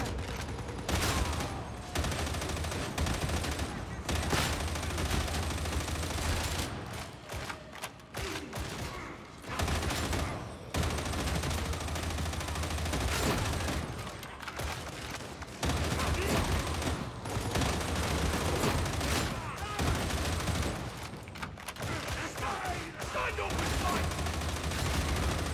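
Sustained rifle gunfire in Warhammer 40K Darktide at Chasm Station, a Veteran on Damnation difficulty, with bursts of rapid shots broken by short pauses, loud and close over game noise and some speech.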